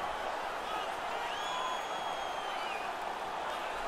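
A stadium crowd in an ice hockey video game, Färjestad versus Frölunda, roars in a steady, unbroken wash of cheering that holds at an even level throughout.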